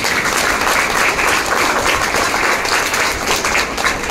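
Loud, dense audience applause for the parents at a student felicitation ceremony, sustained even clapping from a packed hall close by, a little crowd murmur mixed in.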